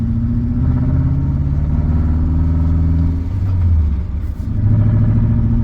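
A BMW E39 M5 V8 idles steadily up close, a low, even rumble with a faint wobble in pitch and a brief dip in level partway through, with no voices over it.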